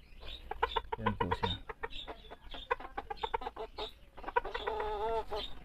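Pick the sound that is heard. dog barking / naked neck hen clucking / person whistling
naked neck hen clucking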